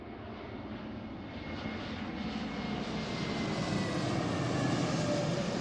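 A Frontier jet airliner arriving from Denver at Seattle airport, its engine roar rising steadily from moderately distant to nearer over several seconds, with no talk.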